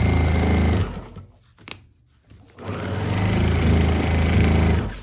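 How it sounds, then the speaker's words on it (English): Sewing machine stitching a fabric pad for a hard metal outdoor chair, a steady close mechanical whir that stops briefly for a backstitch pause, then runs on continuously. "the last thing I'm going to come do is sew from the corner to this point"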